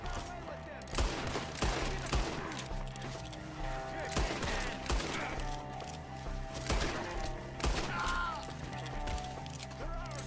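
Rapid gunfire crackles through a Red Dead Redemption 2 shootout against enemies up in the trees, with repeated sharp shots and bursts spread across the clip, some close and loud.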